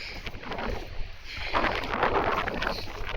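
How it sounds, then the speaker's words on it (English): A strong storm wind blows during Storm Ciarán in Jersey. It makes a loud, continuous roar and buffets the microphone with rushing gusts, swelling stronger partway through, with no speech. "This wind is so strong."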